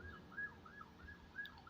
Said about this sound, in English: listen to the siren